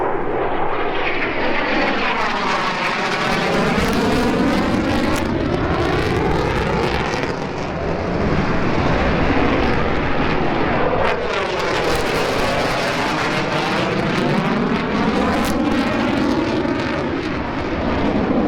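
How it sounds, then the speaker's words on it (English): Airshow planes pass low overhead with a loud, roaring engine drone that swells, fades briefly near the middle, then builds again into a second close pass, with no talking. "watching this air show and these planes flying right over our heads"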